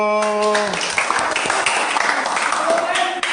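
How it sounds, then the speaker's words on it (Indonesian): Schoolchildren in a primary school classroom clap their hands together, a burst of fast, bright claps following a short spoken voice at the start. "Oh iya, tepuk tangan dulu."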